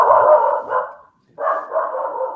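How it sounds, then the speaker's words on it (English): A dog barks in two sustained bursts separated by a brief pause, fairly close and loud, with no speech over it. "Oh, there's a puppy dog."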